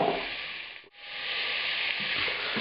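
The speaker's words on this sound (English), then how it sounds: "I'm going to put the ghee in there and begin cooking the beef" Beef sizzles steadily in ghee in a hot pan, a loud, even hiss that dips once briefly before resuming at full strength, with no talking.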